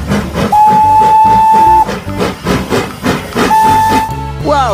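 A toy train's bright, sustained whistle sounds twice, each blast about a second long, over a busy chugging, rattling rhythm with a hiss near the end.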